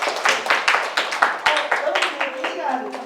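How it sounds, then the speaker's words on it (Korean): A seminar audience at Keimyung University gives a short round of applause, a quick rhythmic patter of hand claps lasting a few seconds, with a speaker's voice overlapping. "자, 박수로 예, 보내드릴게요"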